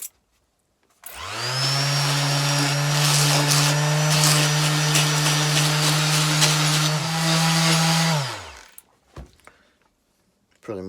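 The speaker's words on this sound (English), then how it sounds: "all I'm going to do is use an electric sander" An electric sander works on an old dust brush, starting with a loud steady motor whine that holds for about seven seconds before shutting off and winding down.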